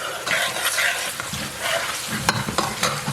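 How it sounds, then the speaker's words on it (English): Garlic powder is stirred into hot oil in a Ninja Foodi, giving a close, steady sizzle broken by soft spoon scrapes and clicks. "I'm just going to add a little bit of garlic powder into my oil, just a little bit, right there. Mix it together."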